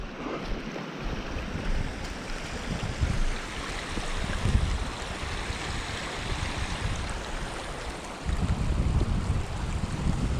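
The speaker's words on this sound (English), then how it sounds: "Man, the water's really flowing here." Rushing water flows steadily near a small pond at the south end of Spectacle Lake, a broad continuous wash sounding close and loud, with some wind buffeting the microphone and a brief dip in low rumble near the end.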